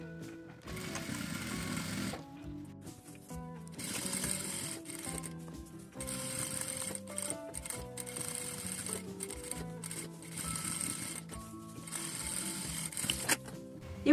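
A sewing machine topstitches along the top and bottom of an accordion-style fabric bag, running in several steady bursts of rapid needle chatter separated by short pauses, close and loud with no talking.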